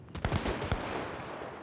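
A gunshot in the video game Hunt: Showdown sounds as a few sharp, fairly quiet bursts in quick succession that fade into a soft tail, with no voices over it.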